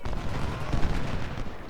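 Cannon fire in the Civil War strategy game Ultimate General: Civil War, a dense continuous rumble of booming artillery shots with overlapping low blasts throughout, fairly loud and steady.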